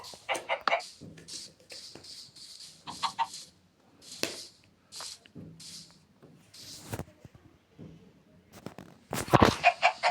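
Chickens cluck in Minecraft, the short blocky game calls recurring in bursts across the clip, mixed with game effects and a louder clatter near the end, while a person talks over them.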